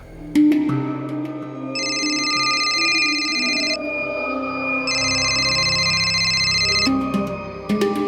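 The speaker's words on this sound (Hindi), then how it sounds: "नैना फोन क्यों नहीं उठाती है यार?" A phone ringtone sounds in two sustained electronic bursts with a pause between, over a soft background hum.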